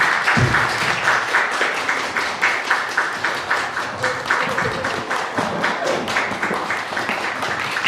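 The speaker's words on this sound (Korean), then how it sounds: "박수 한번 부탁드릴게요" Audience applause at a film festival screening talk as directors are welcomed onto the stage: dense, steady clapping from a crowd continues evenly throughout.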